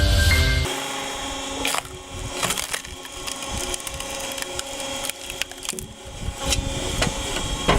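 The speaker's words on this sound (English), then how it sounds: "DIY wood processor, chainsaw, and log splitter. All in one." A DIY wood processor that combines a chainsaw and log splitter works through logs, giving a loud, continuous mechanical roar with splintering and crushing wood, steady throughout with no voices.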